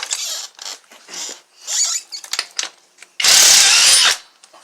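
A power tool removes the wheel lug nuts from aftermarket rims on a 2013 Chevy Silverado. Short mechanical clicks and whirs come first, then one loud, close, sustained high-pitched burst of about a second.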